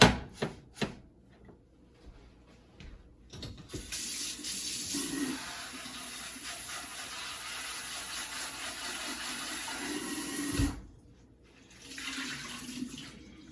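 Green beans and kale get rinsed under a kitchen tap, with a few clinks and knocks before a steady stream of running water and splashing starts and then stops, followed by more handling sounds.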